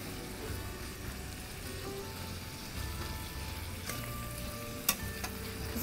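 Tomatoes and zucchini cook in a skillet with a soft, steady sizzle, faint and even, broken by a couple of brief clicks toward the end, no voices.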